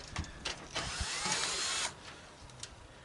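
A drill works out fasteners from scrap sheet aluminum salvaged from a scrapped travel trailer, a steady whine of about a second amid short clanks and handling noises, fairly faint and close.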